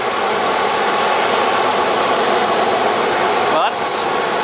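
Airbus A340 at Zurich Airport, a steady, broad jet engine roar holding loud and constant throughout, with a brief brighter sweep near the end.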